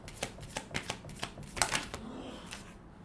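A deck of advice cards is shuffled close up in quick riffling flicks, followed by softer rustles as one card is drawn, quiet and without talk.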